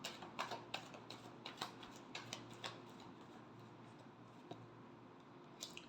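Tarot cards being shuffled, a run of quiet crisp flicking and tapping clicks in irregular quick succession, close and faint with no talk.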